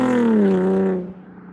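An Infiniti G37's VQ engine through an aftermarket exhaust, a brief deep rev that rises and settles, droning and then tailing off quickly within about a second.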